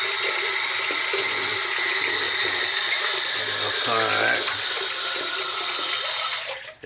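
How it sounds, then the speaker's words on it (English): Water runs steadily from a leaking bathroom sink with a constant hiss, close by, while a person speaks briefly over it. "sink does leak down."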